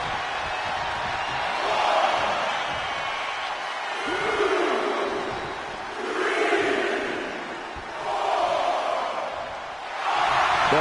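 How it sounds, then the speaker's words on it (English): Wrestling arena crowd during an Intercontinental championship tournament match, a loud sustained roar of cheering and shouting that swells in repeated waves, dense and continuous throughout. "The sound of this crowd is deafening"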